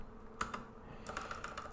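Fingers tap on a computer keyboard in a quiet room, a brief burst of sharp, close keystrokes, a few isolated presses and then a quicker run of clicks.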